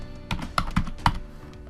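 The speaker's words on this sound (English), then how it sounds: "When you type in a zip code" Zip code typed on a computer keyboard, four or five quick, crisp key clicks in a short, slightly uneven burst, close and clear with no talk.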